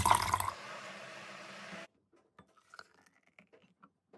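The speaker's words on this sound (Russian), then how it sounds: "Вливаю холодной воды" Cold water pours in a short, loud splashing stream into a bowl of mashed biscuit filling with condensed milk, stopping abruptly, followed by faint scattered clinks and small kitchen sounds.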